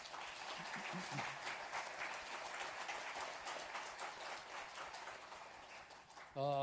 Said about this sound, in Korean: 두 분 뜨거운 박수로 감사하겠습니다